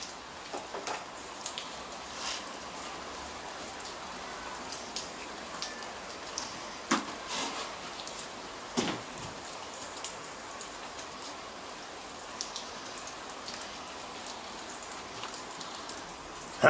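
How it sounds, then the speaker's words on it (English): Light rain falls beside a home swimming pool, a soft steady patter of drops with scattered louder splashes, heard alone at low level. "Raining."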